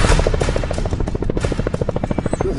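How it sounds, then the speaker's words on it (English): A helicopter flies close overhead in a barren desert, its rotor chopping loudly in a fast, steady pulse that stays near and dominant throughout. "Being chased by a helicopter while speeding backwards through a barren desert is not something most of us will ever face."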